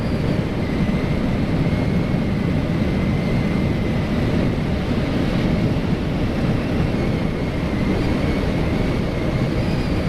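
Motorcycle riding downhill on an open road, with loud, steady wind buffeting and engine rumble filling the whole stretch, no voices.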